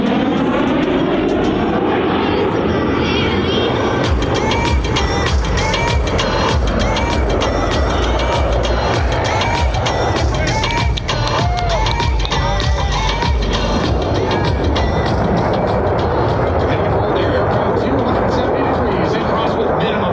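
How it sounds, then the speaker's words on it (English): Blue Angels jets at the California Capital Airshow roar past the flight line at high speed, a loud, sustained engine rush swelling over the crowd while an announcer talks over it. "Five and 6 are approaching the flight line at 400 miles per hour."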